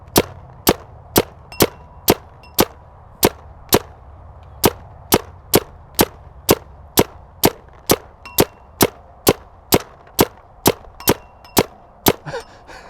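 Shots strike metal poles again and again, producing a long series of sharp, ringing clangs at a steady rhythm, each impact loud and distinct against a quiet background.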